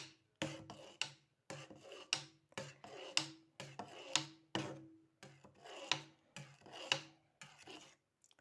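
A knife cuts soft goat milk cheese curd lengthwise and crosswise, giving about nine evenly spaced rasping strokes, close and fairly quiet, with no talking.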